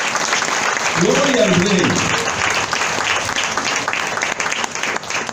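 A church congregation applauds loudly and steadily during a worship service, a dense wash of clapping with a voice calling out over it.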